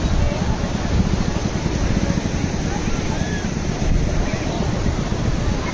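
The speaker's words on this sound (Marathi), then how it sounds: "समुद्राला लाटा पण खूप जास्त जोराच्या आहेत" Strong sea waves at Ganpatipule beach, a continuous loud surf roar mixed with heavy wind buffeting the microphone, steady throughout without clear breaks.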